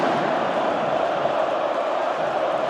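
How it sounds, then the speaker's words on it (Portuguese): Botafogo football fans roar loudly and steadily in a packed stadium, a dense and continuous crowd noise with no breaks. "A torcida do Glorioso aumenta o volume"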